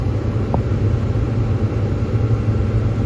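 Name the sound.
engine idling at 1900 RPM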